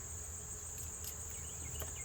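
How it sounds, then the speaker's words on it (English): Honey bees shaken out in front of a hive buzz in a steady, dense drone, with a few louder passes near the end. "shake these bees out front, see if we can piss them off real good."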